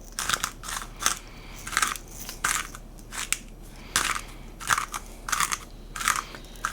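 Black pepper ground in a hand pepper mill: a quick series of crunchy, crackling grinding bursts in an uneven rhythm, close and clear with no talking.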